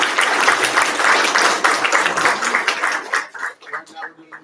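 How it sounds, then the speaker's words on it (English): A concert audience applauds a group of young piano players, a loud burst of clapping that fades after about three seconds into scattered, isolated claps. "Can we get another round of applause for some of our piano players?"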